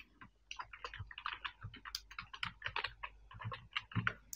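Fast, irregular clacking of keys on a computer keyboard as an online registration form is filled in, close and clear with short pauses between bursts and no talk over it.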